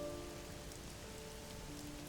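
Torrential rain whipping close by on a stormy night, a dense steady roar of drops and spatter that fills the whole moment with no pause or voices.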